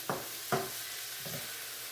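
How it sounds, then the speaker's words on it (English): Zucchini sautéing in a skillet: three short scraping, stirring bursts over a faint, steady background sizzle, with no talking. "So I just want these zucchini to get a little bit sauteed before I add the rest of the ingredients."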